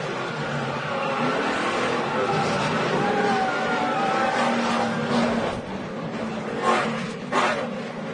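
Stock car engine heard onboard during a race restart at Loudon in the 2011 New England 200, a steady loud drone with cars packed and slowing into the corner, rising and falling slightly, with faint voices underneath.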